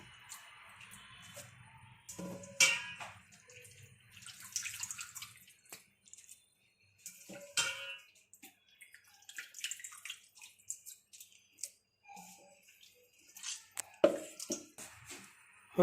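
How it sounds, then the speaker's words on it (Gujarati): Water splashes and drips in short bursts as washed spinach is drained, with squishy handling sounds and quiet gaps between them. "હવે આપણે પાલકને મિક્સર બાઉલમાં લઈ લઈશું પાણી નીતારીને"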